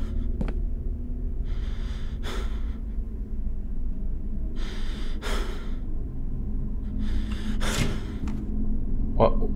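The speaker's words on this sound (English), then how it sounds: "Why are you breathing like this?" The player character in the horror video game MADiSON breathes heavily in a dark basement, with four or five loud, close breaths and sighs spaced a couple of seconds apart over a steady low ambient rumble.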